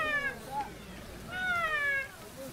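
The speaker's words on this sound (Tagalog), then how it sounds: "May pusa sa taas." A cat meows twice, the first call short and the second longer and drawn out, fairly faint against a rushing background, with people talking nearby.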